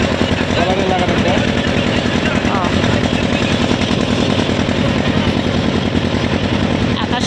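A boat's engine drones steadily and loudly without a break near Hazarduari, a close, rough mechanical hum filling the whole stretch with no pauses.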